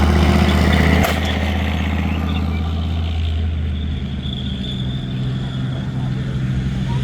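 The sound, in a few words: Leopard tank charging across a field at a tank display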